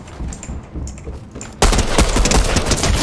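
Pistol fire in the video game Fortnite, a sudden loud burst of rapid shots that cuts in after a quieter stretch of game ambience.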